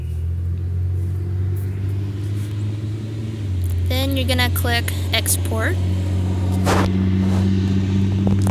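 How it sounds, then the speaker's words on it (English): A loud truck passes by outdoors, its deep engine rumble steady and heavy throughout, with a person talking close over it. "a loud truck just drove by"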